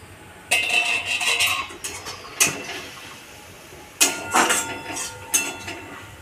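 Metal lid set onto a frying pan of drumstick leaves on a home stove, a series of sharp clattering clinks and scrapes in irregular bursts, close and fairly loud, with no talk.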